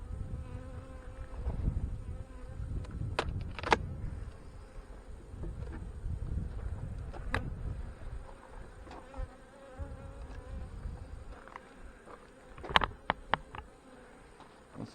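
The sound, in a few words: honey bees buzzing while working fireweed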